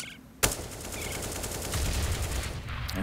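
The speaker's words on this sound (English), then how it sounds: "And now Zeus with his Deagle is teeing off shots" A loud Desert Eagle pistol shot cracks near the start in a Counter-Strike match on de_overpass, followed by dense overlapping game gunfire and noise.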